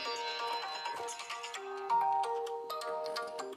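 A mobile phone ringtone plays alone, a bright synthetic melody of stepped tones going on for several seconds, fairly loud and close.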